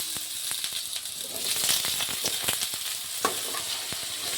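Potatoes frying in hot oil with cumin seeds in a kadai, a steady close sizzle with crackling bursts and scraping stirs throughout, no talking.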